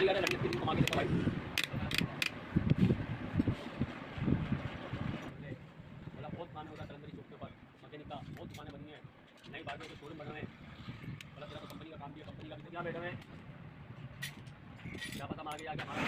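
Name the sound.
fitting kick-start ratchet and spring on 70cc motorbike engine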